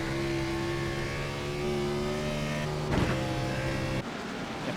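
A Toyota stock car in a racing game powers down the straight at Brands Hatch, its steady buzzing engine note holding, then dipping briefly as the throttle lifts, with a sharp shift in tone near the end.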